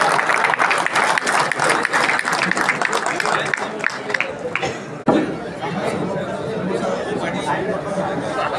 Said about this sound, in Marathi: आपण सर्वांनी जोरदार टाळ्या वाजवून स्वागत करायचं आहे